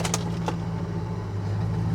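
An old, high-mileage ambulance with a rough-running engine idles with a steady low hum, then drops into gear; a few faint clicks sound near the start.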